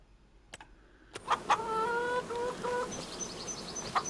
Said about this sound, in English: I'll put a rooster in as well.